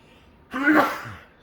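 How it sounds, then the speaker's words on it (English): A single sharp sneeze from someone cleaning a Nintendo DS game cartridge with Brasso, a close, breathy burst that rises and fades over about half a second against a quiet room. "Oh, I need to sneeze."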